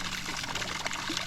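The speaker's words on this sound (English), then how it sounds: "There goes the pump, pumping the water out." A bilge pump on a bass fishing boat in a shallow Maine cove pushes water out in a steady, close pouring trickle for about a second, with no voices.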